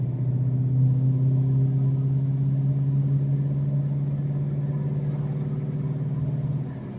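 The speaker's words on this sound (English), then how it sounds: "Get a few exhaust crackles." Procharged 2004 Mustang Mach 1 on a drive, a steady deep exhaust drone and engine rumble heard from inside the car, holding fairly constant before easing slightly near the end, with no distinct pops standing out.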